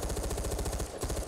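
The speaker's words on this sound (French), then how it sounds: "On fait comme les gens, on tire dans le ciel." Rapid automatic gunfire shot into the sky in Far Cry 4 multiplayer, in the Valley of the Yetis DLC, a fast, even stutter of loud close shots that briefly breaks near the end.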